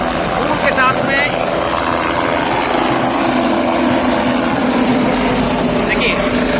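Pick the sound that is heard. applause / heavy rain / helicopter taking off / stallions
helicopter taking off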